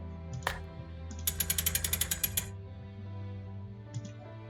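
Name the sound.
crank mechanism turning in the video game Curse of Blackmoor Manor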